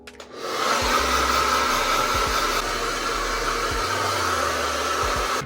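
Hair dryer running on its lowest setting with little heat, fluffing natural hair: a steady, close, continuous whir for several seconds, with a few low bumps of handling under it and no talking.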